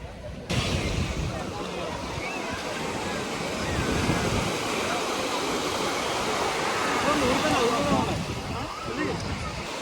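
Ocean surf at Moriya Beach in Japan rolls in as a steady, loud wash of breaking waves, continuous for the whole stretch with no clear pauses.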